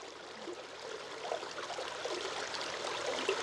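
Flowing water, like a waterfall or stream, runs in a soft, continuous rush that stays quiet and even, growing only slightly fuller toward the end.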